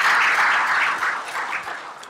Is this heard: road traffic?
no